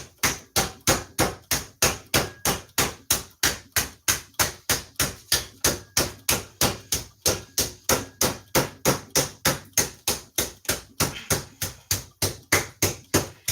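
A meat tenderizer hammer pounds trout fillets in a kitchen, striking in a steady, fast, evenly spaced rhythm of loud, close thuds with no pauses and no talking.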